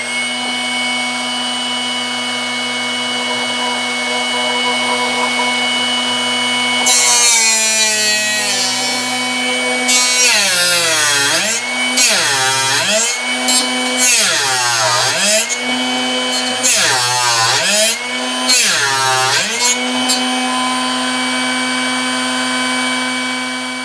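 A Drill Doctor 750X sharpener grinds a drill bit, a steady motor hum rising into repeated harsh grinding bursts about every two seconds as the bit is rotated and pushed against the wheel, loud and close with no talk.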